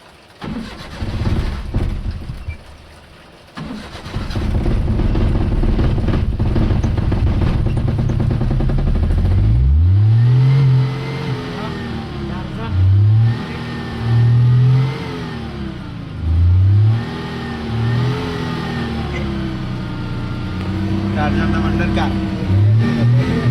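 A car engine idles and then revs repeatedly in several rising bursts before pulling away, loud and close, with rain in the background and people talking over it.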